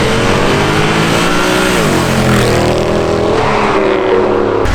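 Engine of a V8 supercar rival straining under hard acceleration on a pull, a loud continuous roar whose pitch climbs steadily, dips briefly at a shift, then rises again, close and with no voices.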